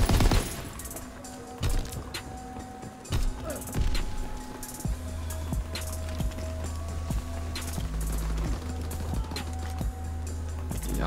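Rapid bursts of VOLK assault rifle fire in a Call of Duty match crackle through the game mix, with clusters of shots separated by short pauses and a low rumbling bed underneath.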